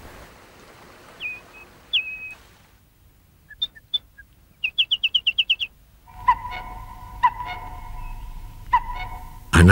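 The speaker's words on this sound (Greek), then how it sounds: "Ανάλαφρο το φτερούγισμα του αθέατου πουλιού." Birdsong and calls from an unseen bird in a silent stone monastery setting: scattered single chirps, then a quick run of repeated high notes, followed by a louder stretch of trilling calls over a low background rumble.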